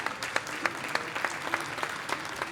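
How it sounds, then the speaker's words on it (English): Conference audience applause, a moderate, evenly spread patter of many hands clapping with a few sharper individual claps standing out, heard at a distance in a hall. "That was a pretty good clap."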